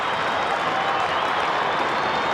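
A large Australian football crowd at Waverley Park roars during a 1997 St Kilda versus Brisbane match, a broad, steady wash of cheering and applause sustained throughout without any break.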